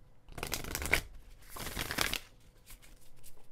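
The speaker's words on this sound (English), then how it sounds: "So I'm feeling from spirit, we gotta do a little shuffly shuffle." Nature's Whispers oracle cards are shuffled by hand in two quick riffling bursts, close and crisp, followed by a few lighter card taps.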